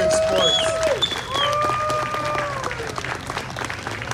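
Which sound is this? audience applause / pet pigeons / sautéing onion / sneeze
audience applause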